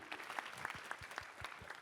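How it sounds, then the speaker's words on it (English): Light, sparse clapping from an audience at an awards ceremony for societal impact, with individual claps standing out, faint and distant. "Let's give one more round of applause to Jacki O'Neill."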